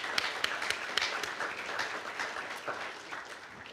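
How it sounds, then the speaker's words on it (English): An audience at a dedication ceremony applauds, a dense patter of many hands clapping with a few sharper claps standing out, steady and then slowly thinning. "if you could give them all a round of applause"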